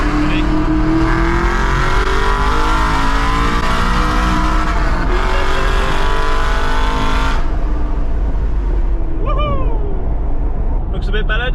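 An Aston Martin sports car engine revs hard and accelerates, rising in pitch through several gear changes, loud and close, with a voice speaking over it.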